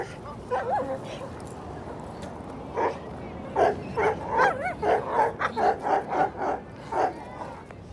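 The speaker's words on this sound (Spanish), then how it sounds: "cuando ve un perro extraño, un perro por primera vez, por ahí que nunca él haya visto. Empieza a ladrar" A Belgian Malinois barks at an unfamiliar dog. Loud, close barks come in an irregular run, then a fast burst of repeated barks mixed with yips and whimpers, over steady outdoor background noise.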